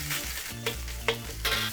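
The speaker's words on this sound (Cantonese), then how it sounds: "由佢咧喺呢個鑊入邊咧煎一陣先" Pork belly sizzles and spits in a smoking-hot wok with a little oil, a dense, steady frying hiss with a few sharper crackles and pops rising above it.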